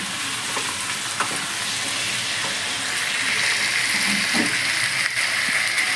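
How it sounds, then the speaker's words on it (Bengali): Marinated mutton liver and potatoes fry in a pan with a steady, loud sizzle that runs throughout, broken only by a few faint stirring clicks. "এখন আমি এই মাংসের মেটেটা দিয়ে দেবো এর মধ্যে দিয়ে আলু ও মেটেটাকে আমি ভালো করে ভেজে নেব"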